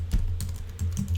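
Typing on a computer keyboard while coding in Processing, a quick run of close, clicky keystrokes in an uneven rhythm with no talk.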